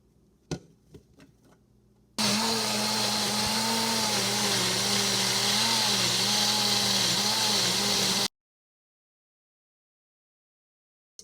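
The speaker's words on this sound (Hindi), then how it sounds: "अब इन चारों चीज़ों को, मिर्ची, अदरक, पालक और ये मूंग को ग्राइंड करेंगे" A kitchen grinder whirs loud and steady for about six seconds, blending green chili, ginger, spinach and boiled mung, after a few light knocks, then cuts off abruptly into silence.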